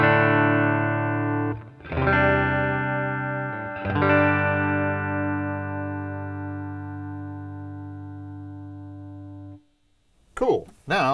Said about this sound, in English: play the single coil, just straight clean electric sound through the acoustic amp on the Tele.